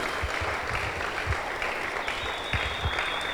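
Dense, steady applause from a church audience, loud and close, clapping continuously throughout without voices.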